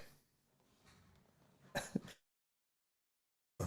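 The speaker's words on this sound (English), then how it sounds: "Not a COVID cough" A short burst of coughing, two or three harsh close-up coughs in quick succession following a stretch of faint room murmur, then silence before another brief sound at the end.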